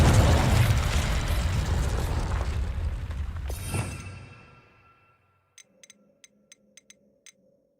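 A Confringo blasting spell bursts in Hogwarts Legacy: a loud, sustained roaring explosion that rumbles for about four seconds and then fades, followed by a few faint, sharp ticking clicks in near silence.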